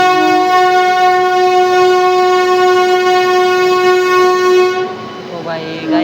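A passenger train on the Veraval–Bhavnagar run rolls along steadily while a long, loud horn blast sustains for several seconds, then cuts off as rumbling wheel noise continues.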